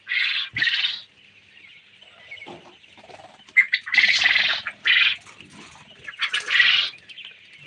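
Quail kept in a cramped cage flutter and scuffle in short bursts of wing flapping, with a few sharp chirps and squawks between quieter stretches, close and fairly loud.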